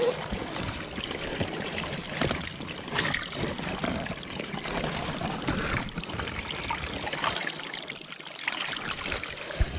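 A stream runs just below a wild camp, its steady, fairly close rush of water filling the whole stretch with no pauses.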